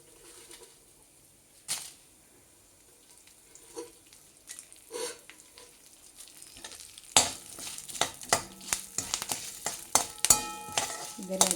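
Urad dal, dry red chillies and curry leaves frying in hot oil, quiet at first with scattered pops, then a sudden loud crackling sizzle with rapid spattering bursts and utensil clinks, close at hand.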